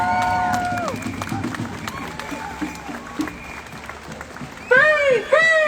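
Crowd at a Free Palestine rally claps and cheers steadily under scattered voices and shouts, with a louder burst of raised voices near the end.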